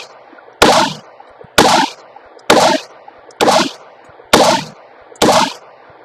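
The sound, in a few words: 22 caliber handgun firing a magazine of rounds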